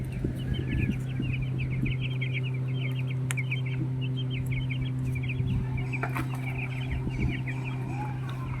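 Chickens cluck and chatter repeatedly in a village setting, a busy fowl chorus over a steady low hum, with one brief louder burst.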